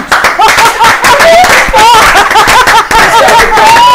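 Studio audience applause on a French television talk show, a short burst of clapping mixed with chuckles and laughter, loud and close, with voices talking over it.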